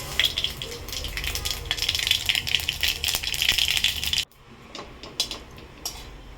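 Mustard seeds and dried red chilli tempering in hot mustard oil in a kadai, a dense rattling crackle and sizzle that abruptly drops to a quieter spatter with sparse pops.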